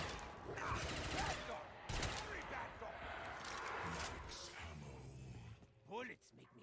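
Rapid bursts of gunfire in a zombies video game crackle in loud clusters, with a brief pause and renewed shots, under talking voices throughout.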